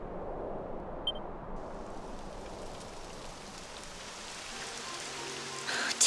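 Steady rain in the video game Dragon Quest XI: Echoes of an Elusive Age hisses evenly throughout, a dense wash of falling drops with a faint electronic beep near the start and no voices.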